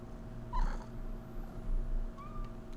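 A pet kitten gives a short, close meow near the start, then a faint second mew later, over a steady background hum.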